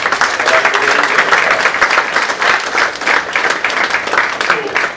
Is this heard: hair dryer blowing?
no